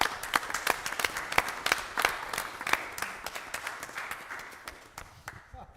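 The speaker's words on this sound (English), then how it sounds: "Let's give them a well-deserved round of applause." A council meeting audience applauds the town's lifeguards, modest scattered clapping from a small room of people that thins out and fades toward the end.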